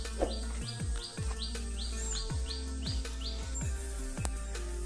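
Birds chirp at dawn in a quiet, remote rural village, giving short, bright calls that repeat at a steady rhythm over a constant low background hum, with no talking.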